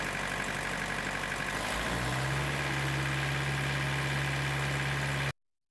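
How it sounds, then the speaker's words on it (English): A refrigeration unit's engine runs after starting automatically, a steady low idling drone with a faint vibration that settles into a deeper, constant hum before cutting off abruptly. "The unit will then automatically preheat and start."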